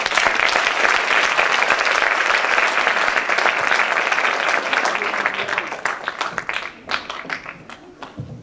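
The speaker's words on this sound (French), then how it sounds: "Je vous demande de les applaudir pour les encourager." A concert-hall audience at a Francophonie competition applauds loudly and steadily for several seconds, then the clapping thins into scattered individual claps before fading.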